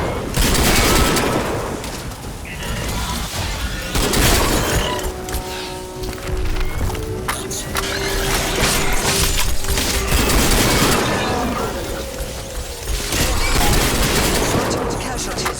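Rapid automatic shotgun blasts in a first-person shooter, heavy booming bursts fired in quick strings with brief pauses between volleys, loud and close throughout the stretch.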